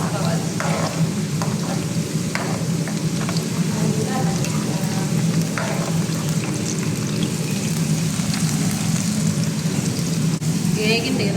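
Tomato paste fries with garlic, green chilies and curry leaves in a pan, giving a steady, close sizzle and crackle with occasional stirring clinks. A voice talks over it.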